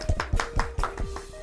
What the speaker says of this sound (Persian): همه ما شما باید اولیانا جان با یک کف زدن تشویق کنیم.